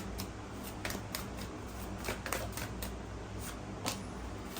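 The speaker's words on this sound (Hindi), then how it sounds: "चलिए अच्छे से शफल करते हैं" Tarot cards are shuffled steadily by hand, a continuous close papery riffle with repeated soft snaps throughout and no voices.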